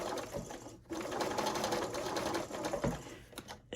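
A domestic sewing machine runs steadily through fabric in a continuous whir of rapid stitching, with a short pause near the start and a brief slowdown near the end.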